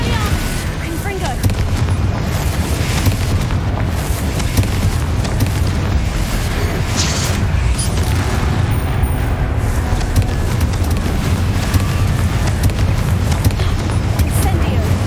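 Repeated Confringo fire-blast spell explosions in the video game Hogwarts Legacy, a dense rumbling barrage of booms and bursts running continuously and loud throughout, with battle noise layered underneath.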